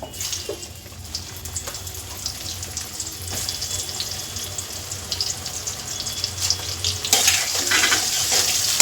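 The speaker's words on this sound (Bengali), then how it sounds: "এবার বাকি তেলে এই সরু সরু করে কেটে রাখা বেগুনগুলো সব দিয়ে আমি ভেজে নেব" Steady oil sizzling and crackling of thinly sliced eggplant frying in a pan, with occasional stirring clatter and a louder hiss near the end.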